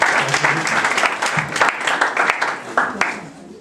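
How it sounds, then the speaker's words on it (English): Audience applause at a community career-building workshop: moderate clapping with distinct individual claps standing out, tapering off toward the end. "Please, clap for him, clap for him,"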